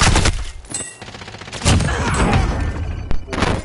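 Bursts of rapid gunfire crackle through a Warzone battle royale match, loud and dense automatic volleys with heavy thuds, continuing almost without pause.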